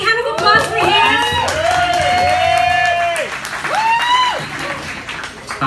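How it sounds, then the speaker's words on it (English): Audience applause at a live musical cabaret concert, steady clapping throughout with loud whoops and cheering voices rising and falling over it. "Big hand of applause for him."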